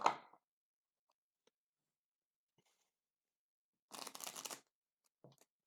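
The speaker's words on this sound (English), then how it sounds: "I'm going to shuffle this deck to get clarifiers." A tarot deck is shuffled in a quiet room: a brief riffle at the start, then near silence, then a denser burst of card shuffling in the middle and a few faint taps near the end.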